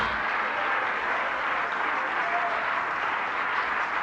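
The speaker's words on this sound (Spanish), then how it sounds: "Le damos una ofrenda de aplauso" A church congregation applauds steadily as an offering to God, a dense, even wash of many hands clapping together throughout, with no pauses or individual claps standing out.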